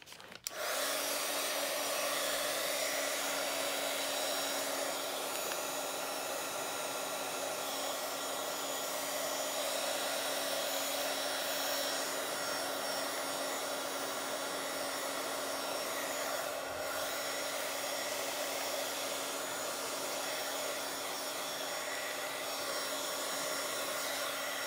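A hair dryer blows onto a Bible journal page, running as a loud, steady, close whine from start to finish, with a faint rubbing or shifting sound partway through and no talking.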